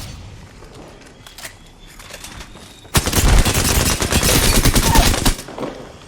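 Video game firefight with grenades: quieter scattered shots at first, then a sudden loud burst of rapid gunfire and blasts lasting about two seconds before easing off.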